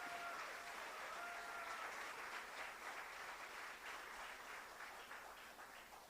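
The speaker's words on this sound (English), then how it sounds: "Big round of applause" A large audience at a college's silver jubilee alumni meet gives a sustained round of applause, dense, steady clapping that fills the room for the whole stretch and tapers slightly at the end.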